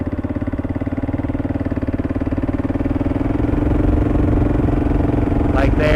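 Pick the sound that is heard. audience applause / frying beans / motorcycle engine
motorcycle engine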